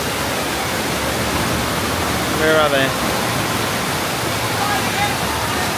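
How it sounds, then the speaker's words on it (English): Water from a theme park waterfall splashes down in a steady, broadband rush that fills the whole stretch, with people talking and calling out nearby over it. "Come on then, get under waterfall."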